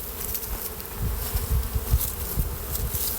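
Honeybees at an open beehive make a dense, continuous buzz close by, swelling and pulsing as bees fly near, with no voices.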